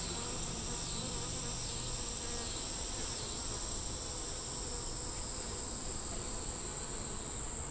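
Honey bees buzz in a steady, dense drone throughout a hive inspection, a constant close hum with no break and no talk.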